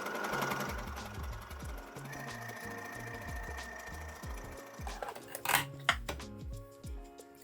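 Sewing machine runs a zigzag of small straight stitches in rapid, even mechanical thumping, steady and close, with some clattering handling near the end.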